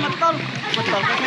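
People bathing in a river, splashing and sloshing water steadily in the background while voices, including children's, talk and call out over it outdoors.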